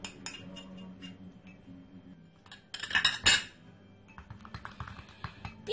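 A spoon stirs an egg yolk and honey face mask in a bowl, making light irregular clinks and scrapes against the bowl, close and fairly quiet, with a louder burst of clattering midway.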